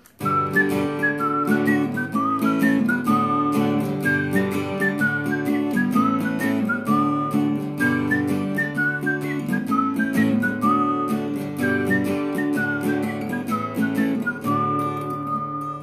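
A clear whistled melody carried over acoustic guitar accompaniment, steady and close, with no talking.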